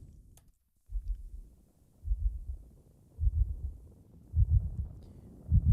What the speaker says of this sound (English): We first hear the heartbeat there.